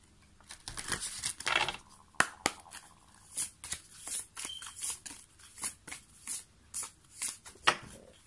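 A tarot deck being shuffled by hand, with a rapid riffle and flutter early on, then a regular series of soft card slaps and rubs repeating about every half second, close and alone.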